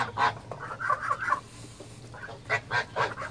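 An African goose honks repeatedly while being caught by hand, loud close honks in two bursts separated by a brief quieter pause.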